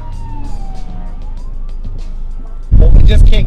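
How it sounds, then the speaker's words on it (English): A police car siren wails and glides in pitch along a city street, steady at moderate volume, then a loud rush of passing traffic swells near the end. "we just can't get this review without police cars and people zooming by"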